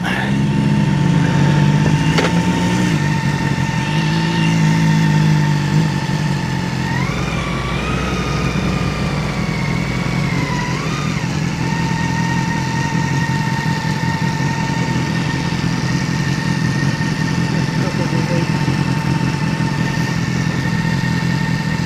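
BMW K1600GTL and S1000XR motorcycles riding on the A40, a loud continuous engine drone with shifting pitch and rushing wind noise, heard steadily from on board.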